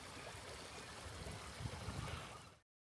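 Water from a modern fountain in a town water garden splashes in a steady, faint rush for a few seconds before cutting off abruptly.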